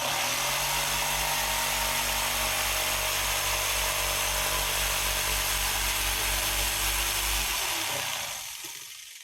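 A handheld power saw cuts through wood to shape wooden triangles, a loud steady motor whine and grinding buzz running continuously for about eight seconds before spinning down and stopping.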